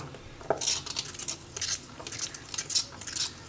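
A spoon scrapes and clinks against a bowl while cold coco ingredients are stirred together, giving quick, steady metallic taps and swishes close up with no voices.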